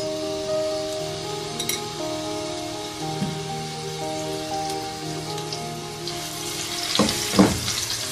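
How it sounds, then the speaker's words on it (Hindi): Small chunks of marinated chicken fry in a teaspoon of oil in a pan, a close, steady rain-like sizzle that swells with a few louder crackling bursts toward the end. "इसमें 1 टीस्पून ऑयल का डालेंगे। इसमें ऐड कर रही हूँ मैं ये मैरिनेटेड चिकन।"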